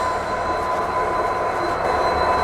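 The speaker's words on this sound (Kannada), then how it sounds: "ಡೀಸೆಲ್ ಇಂಜಿನ್ ಹಾಕ್ಯಾರ ಇದಕ್ಕೆ," Panchaganga Express standing at a station platform with its WDP 4D diesel locomotive, a loud, steady rumble and hum that carries on without pause.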